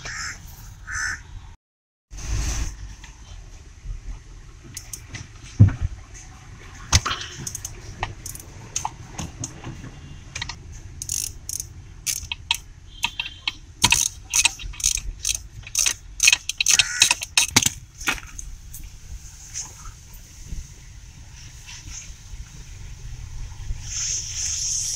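Sharp metallic clicks and scrapes of a wrench loosening a 12 mm nut on a Hyundai Verna clutch master cylinder during a clutch repair, coming in scattered bursts that grow denser midway, close up with no talking.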